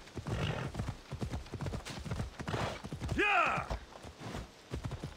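Horse hooves clip-clop at a steady walking pace in Assassin's Creed Odyssey, close and clear, with the horse whinnying once partway through and a voice talking over parts of it.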